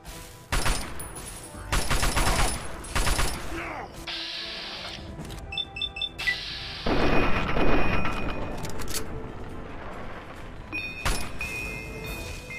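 Gunfire in the video game Fallout: Tale of Two Wastelands, with bursts of shots and clattering weapon mechanisms at the start, a brief rapid volley midway and more shots later, loud and close.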